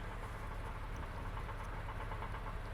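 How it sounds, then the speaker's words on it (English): A 2002 Porsche 911 Targa with a six-speed gearbox idles with a steady, even low rumble and a fine rhythmic pulse, heard alone at a moderate distance. "I don't think I need the engine running now, so I'm going to shut that off."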